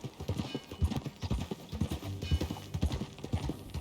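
Horse hooves clip-clopping in the video game Red Dead Redemption, a steady rhythmic run of dull thuds at a trotting pace, close and fairly loud, with a soft background hiss.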